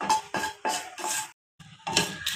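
Utensil scraping and clinking in a pan while jackfruit seed chutney is mixed into a fresh tempering with turmeric and asafoetida, in a run of four close, rhythmic stirring strokes, a short pause, then more stirring.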